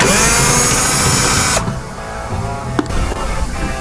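Power tool whirs steadily as it backs off a 10mm headlight bolt on a 2011-2013 Dodge Durango, then drops off sharply, followed by quieter ratcheting clicks and a brief clunk.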